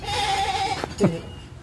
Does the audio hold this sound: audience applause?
no